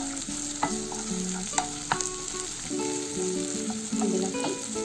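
Finely chopped onions fry in oil with cumin for samosa filling, a steady close sizzle with a few sharp clinks of a spoon stirring the pan, no voices.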